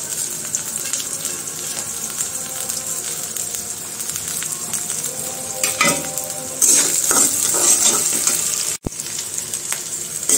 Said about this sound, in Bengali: তো এটা একটু ভেজে নিব, আর রসুন কুচিটাও দিয়ে দিব।